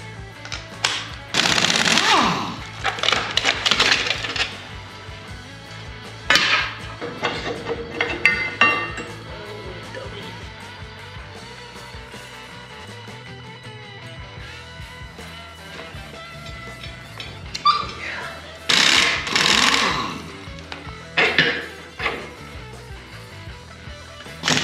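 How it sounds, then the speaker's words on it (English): Dust shield being removed from a Dana 60 front axle for a 1940 Chevy truck project, with loud bursts of metallic banging and rattling around two to nine seconds and again near eighteen to twenty-two seconds, quieter clinks between. "Next I want to take this dust shield off because we don't need those where we're going."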